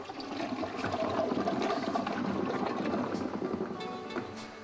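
An American Standard toilet flushes in a powerful continuous rush of churning, gurgling water that stays loud and steady throughout, heard up close with no voices.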